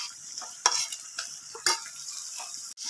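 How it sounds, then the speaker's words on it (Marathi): Mashed eggplant for bharit is stirred and fried in a pan, with a few distinct scraping and tapping strokes of a spatula over a quiet, light sizzle, close by. "आता हे टाकायचे वांगे आपल्याला भरताचे आणि छान मिक्स करून घ्यायचं"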